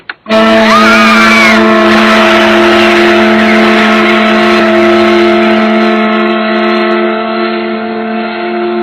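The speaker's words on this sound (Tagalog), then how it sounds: "Mapapatakbo pa natin ang makinang yan. Sa palagay ko, malakas pa ang motor nito." An old engine turns over and keeps running, a loud steady drone with strong even hum and a brief rising whine near the start, sustained to the end with no talking.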